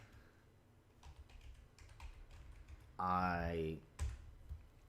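Soft computer keyboard typing during live coding work, scattered light key taps under a quiet voice, with a brief louder tonal swoop near the end.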